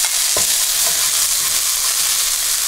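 Garlic frying in a pan for clam linguine, a steady broadband sizzle filling the clip with a few soft stirring scrapes and knocks over it, fairly loud and close, no talking.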